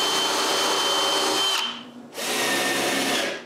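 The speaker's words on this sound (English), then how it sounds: "I cut a strip of plywood and screw it in place." A power drill drives screws into a plywood strip used as a shim under a wheel assembly on a woodworking sharpening station. It makes two loud, close, sustained whirring runs separated by a short pause.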